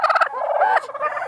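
Big 6 broad-breasted turkeys at a farm sale let out a loud, close burst of rapid gobbling, one rattling call running into the next, with no talking over it.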